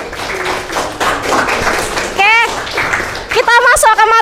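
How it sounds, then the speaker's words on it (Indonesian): Students clapping for a teacher at a school orientation, a brief round of applause under loud speech, with excited children's voices and shouts cutting in over the clapping. "Tepuk tangan dong."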